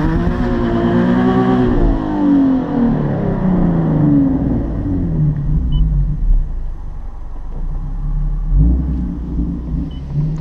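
A Nissan 370Z revs hard while warming its tires, a loud, close engine roar with rising and falling pitch sweeps and a deep rumble throughout, no talk over it.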